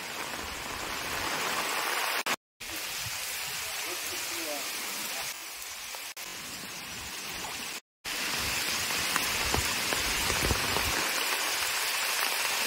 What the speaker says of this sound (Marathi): तर आता जोरदार वादळ आलंय